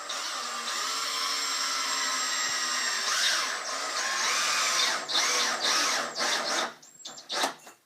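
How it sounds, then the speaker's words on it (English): A power drill whines steadily while driving screws into a wooden piece of a homemade engineless go-kart, then stops and starts in short squealing bursts near the end, close and loud with no talk. "screw it on with 2 screws"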